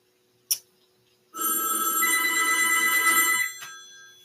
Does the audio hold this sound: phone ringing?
yes